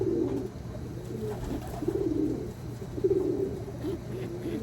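Pigeon hen giving soft, low coos in short repeated bursts at a steady rhythm, fairly faint and close, over a quiet hum with no talking.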